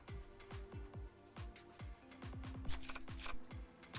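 Digital cards shuffling in a trading card video game, a string of crisp riffling flicks and soft snaps repeating in quick irregular bursts, close and clear with no talk.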